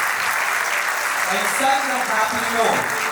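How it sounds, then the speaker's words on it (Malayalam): Students at a school ceremony clap together in a dense, steady wave. The applause stays loud throughout and carries some indistinct voices. "വിദ്യാർത്ഥികളുടെ കയ്യടി ചടങ്ങുപോലെ ആവേശമായി മാറി"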